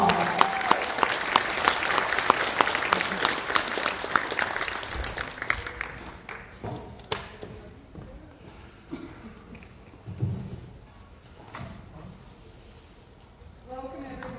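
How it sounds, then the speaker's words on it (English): An audience at the Santa Fe Indian Market Best of Show presentation applauds for Kim Paone in a dense, steady clapping that fades after several seconds into scattered claps and room noise. "Let's give her a big round of applause."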